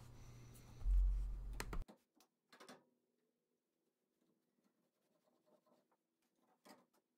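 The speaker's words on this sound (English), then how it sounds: "drawing out the shape I want using some quick and simple measurements" A pencil marks out a tong shape on a wooden plank in a workshop, short faint scratchy strokes following a brief louder thump at the start, then quiet gaps between soft scribbles.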